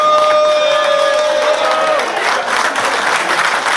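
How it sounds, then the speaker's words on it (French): Crowd at a rural agricultural fair applauding loudly, a dense sustained wash of clapping with a few cheers, after a brief tonal sound fades at the start. "Vous pouvez commencer par tous vous applaudir bien fort."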